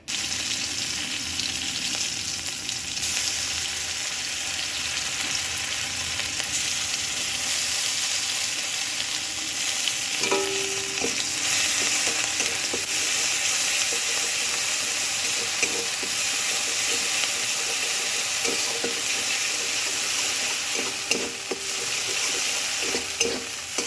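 Black cumin and ground spices, including poppy seed and cashew paste, sizzle in hot frying oil for a bhetki fish dish, giving a continuous close hiss with occasional stirring clatter throughout.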